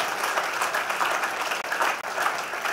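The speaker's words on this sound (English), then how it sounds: "I think it's fitting again to just give them a very big round of applause" Sustained audience applause fills a parental seminar on Generation Z, a dense, steady wash of clapping from many hands that holds for nearly three seconds with two brief dips.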